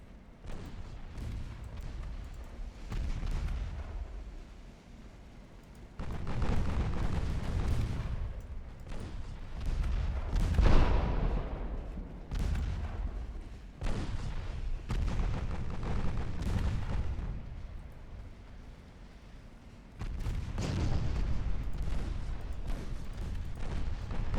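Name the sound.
naval secondary guns firing in video game Ultimate Admiral Dreadnoughts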